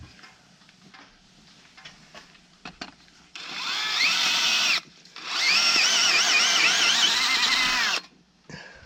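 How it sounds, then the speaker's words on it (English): A power drill bores out the oil drain plug hole on a BMW X5 3.0L, whining loudly in two long bursts separated by a short pause, after quieter shop noise and small clicks. "So we're going to drill a bigger hole, make a thread in there"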